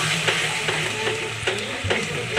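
Bhetki fish bone curry with potatoes and green chilli sizzles steadily in a pan, a dense continuous frying hiss with soft periodic stirring scrapes, close up and with no voices.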